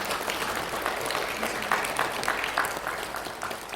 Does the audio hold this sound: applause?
yes